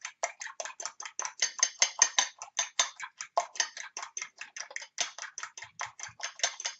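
A fork beating eggs in a bowl for an omelette, giving a fast, steady run of light metallic ticks and clinks, close and clear, with no talk over it.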